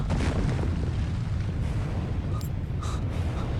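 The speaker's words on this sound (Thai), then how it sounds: "โอ้ภูเขาไฟระเบิดทุกคน" A steady, deep rumbling roar of a volcano erupting in Roblox Disaster Island Survival fills the clip, dense low-end noise with a few faint higher tones over it.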